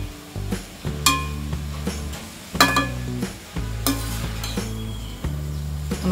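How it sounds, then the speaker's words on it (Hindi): Chawli (black-eyed pea) sabzi fries on a low flame in South Indian style, with a steady soft sizzle and a spoon stirring and scraping the pan in several distinct strokes, close by and without talk. "इसे हम 2 मिनट तक लो फ्लेम में फ्राई करेंगे।"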